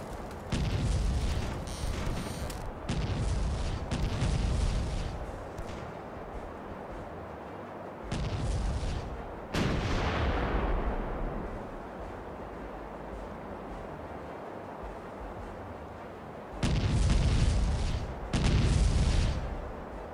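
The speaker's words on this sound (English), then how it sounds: "The left side, ready to fire." Broadside from a ship's cannons while sailing past forts in the pirate video game Caribbean Legend: loud booming volleys in several bursts, with rolling rumble and splashes decaying between shots.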